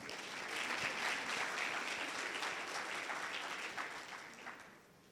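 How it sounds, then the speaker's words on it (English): A round of applause from a summit audience, steady dense clapping at moderate volume from a hall full of people, fading slightly toward the end. "Please give them a round of applause."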